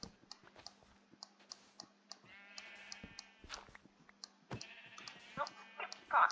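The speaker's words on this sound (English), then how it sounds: "Oh, sheep." Sheep bleating in the game Minecraft, a few wavering synthetic bleats at moderate level over a steady background hum with scattered clicks and keyboard-like taps.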